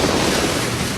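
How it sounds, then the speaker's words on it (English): A racing powerboat at about 165 mph pinwheels over a whitecap and slams onto open water, a loud continuous roar of splashing surf and wind buffeting the microphone. "It pinwheels over the whitecap before thrashing hard onto the water's surface."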